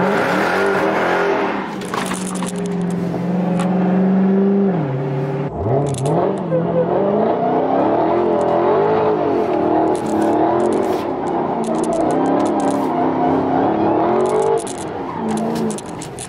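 A Dodge Hellcat engine roars loud and close while the car does donuts, its pitch rising and falling through sustained revs, with a sudden rev spike and tire noise along the way.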